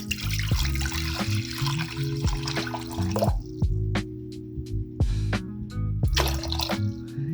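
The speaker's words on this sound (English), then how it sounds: "So what I do is I pour 3 cups of water in the pan." Three cups of water pour into a cooking pan for polenta, a loud splashing stream at first, then lighter intermittent trickles and drips with short pauses between.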